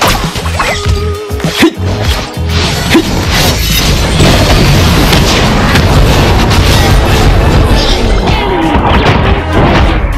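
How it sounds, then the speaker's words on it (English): Turret being destroyed in the mobile MOBA Honor of Kings, heard as a dense run of loud crashing and booming blasts layered with game effects, continuous and close, with no talk. "Your team has destroyed a turret."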